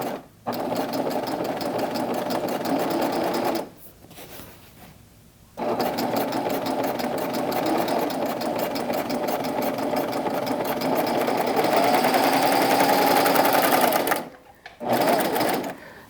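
A sewing machine stitches gathered skirt layers in a sewing room, running as a steady close mechanical whir in long stretches broken by a few short stops, with no voices.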